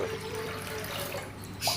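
Water pours steadily into a pot of washed toor dal, a close, continuous hollow splashing that holds level for under two seconds.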